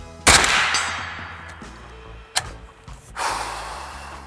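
A suppressed rifle firing supersonic rounds lets off one sharp shot, followed by a fainter crack a couple of seconds later against a quiet outdoor background.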